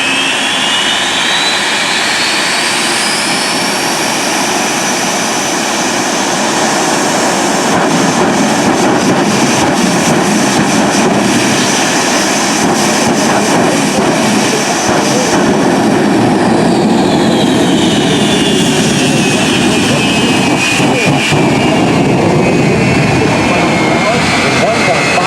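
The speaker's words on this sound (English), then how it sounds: "Mark will now take that incredible 1940 Ford fire truck out on the runway" The Aftershock, a jet-powered 1940 Ford fire truck, roars continuously on an airshow runway, a loud sustained jet blast with a rising and falling whine that holds steady for a long stretch.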